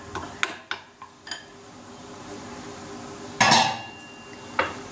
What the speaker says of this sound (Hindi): उसमें हम ओट्स को मिक्स करेंगे।